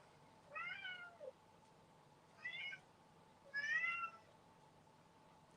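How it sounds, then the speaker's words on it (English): A cat meows three times, spaced a second or so apart. The meows are short, quiet and somewhat distant over a faint background hum. "You guys hear my cat?"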